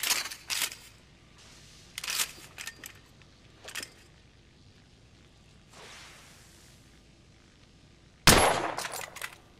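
Scoped rifle shots ring out in The Order: 1886, a few sharp, loud bursts spaced apart with short whooshing tails, the final crack hardest and closest.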